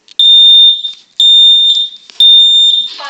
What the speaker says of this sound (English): Now our last smoke detector.